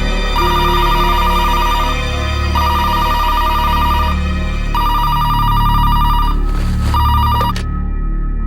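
A mobile phone rings loudly and close, in four repeated bursts of a bright electronic tone separated by short gaps, with the last burst cut off abruptly.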